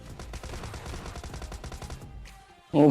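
Kar98 rifle gunfire in a squad battle-royale shooter game, a dense run of rapid gunshots for about two seconds, then a short lull before a loud tonal burst.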